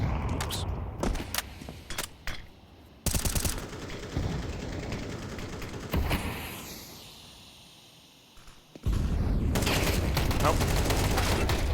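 AK rifle fire in a Counter-Strike 2 match, with bursts of rapid sharp shots, then pauses, and a dense loud stretch of gunfire toward the end, under game ambience and commentary.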